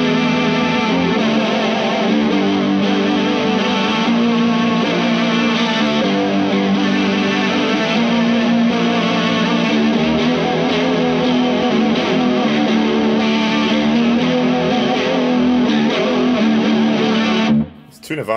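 Distorted electric guitar played through a PastFX Kurt's Cologne chorus pedal set to a fast chorus, sustained wavering, shimmering chords held loud and steady for most of the span before cutting off at the end.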